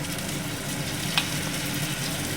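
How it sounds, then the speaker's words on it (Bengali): Tomato paste, made from one whole tomato, frying with onions in a pan over a low gas flame. It gives a steady, close sizzle with one brief clink of stirring, and no one talks. "এবার আমি এর মধ্যে দেবো টমেটোটা যে পেস্ট করে রেখেছিলাম"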